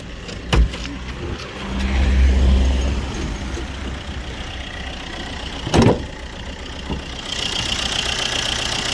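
A 2011 Opel Combo's engine idles steadily at close range, a low even mechanical hum with a couple of sharp knocks or clunks breaking in partway through.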